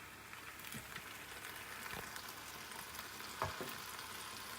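A few drops of water sizzle on a hot grill beneath a cheesy roast beef sandwich on a toasted garlic Kaiser roll, giving a soft, steady hiss with a couple of small crackles.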